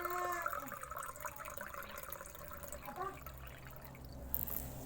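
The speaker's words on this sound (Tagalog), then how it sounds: "Meron tayo ditong baso. Lagyan natin ng tubig." Water pours into a drinking glass at close range, a faint trickling that shifts in pitch over several seconds, with quiet background sound and a short clink near the end.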